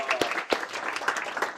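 Brief scattered clapping from a small audience at a tech talk, moderately faint with a few sharper individual claps over under two seconds.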